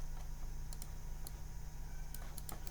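Keys tapped on a computer keyboard in a handful of short, sparse clicks over a steady low hum, fairly faint and close.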